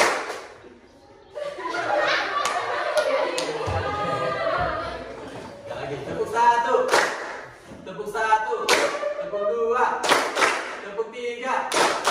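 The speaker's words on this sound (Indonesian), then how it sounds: "Oke, tepuk 1. Tepuk 1." Students clapping in unison in a classroom during a lesson, several separate bursts of sharp group claps spread across the clip, with voices and some laughter between them.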